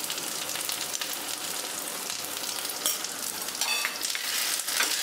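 Grated coconut and ginger paste fry in a pan on a gas flame, giving a steady crackling sizzle with a few brighter spatters and stirring scrapes near the end, and no voices.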